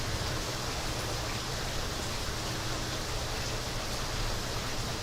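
Steady rain falls in Florida, a dense constant hiss with no breaks, moderately loud and unbroken by voices.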